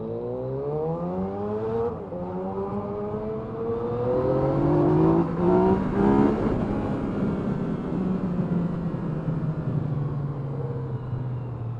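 Onboard ride on a 2017 Yamaha MT-09 motorcycle fitted with an Akrapovic exhaust, the engine revving up through several gear changes with rising and falling pitch, loud and continuous under steady wind noise.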